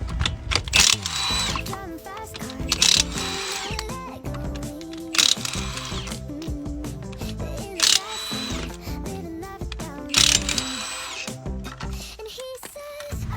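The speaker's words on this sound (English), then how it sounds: "High-end impact with a deep well lug nut remover." High-end impact wrench with a deep well socket removing lug nuts from a Dodge Ram wheel, close and loud, with repeated rattling bursts and whirring between them.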